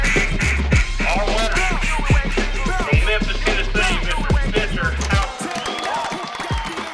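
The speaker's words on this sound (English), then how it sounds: "the loudest duck call ever made" A duck call blown hard in a series of rapid, loud quacking bursts, repeated several times with brief pauses, crowd noise and voices underneath.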